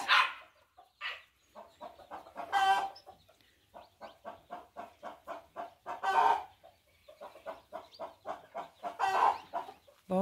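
Chickens on a rural farmyard cluck in short repeated bursts with occasional louder squawks, close by and fairly quiet, with no one talking.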